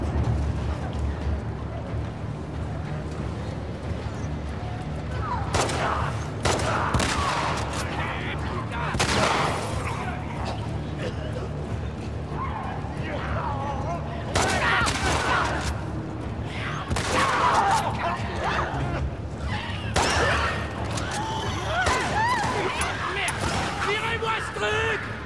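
Gunfire in The Last of Us Part 2 comes as repeated bursts of shots and impacts over a steady game background, with people talking throughout.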